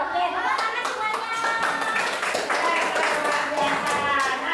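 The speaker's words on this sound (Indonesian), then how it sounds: "tepuk tangan semuanya" A seventh-grade class claps their hands together, a bright, busy patter of clapping running the whole time with a teacher's voice speaking over it.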